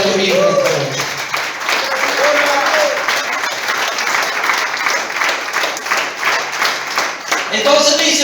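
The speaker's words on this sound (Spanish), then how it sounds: "Aplaudan conmigo." A church congregation claps together in steady, loud, dense applause that runs throughout, with a voice speaking briefly at the start and again at the end.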